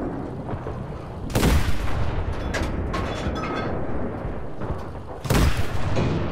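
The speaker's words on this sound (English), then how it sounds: "I'm fucking around and shooting at the infantry" Gunfire aimed at infantry in the video game Enlisted: loud booming shots and sustained rattling fire, with two heavy blasts standing out, close and dense, with no talking.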